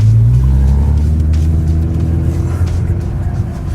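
A Nissan GT-R drives along, heard from inside the cabin as a loud, steady low engine drone and road rumble, the pitch easing slightly over a few seconds.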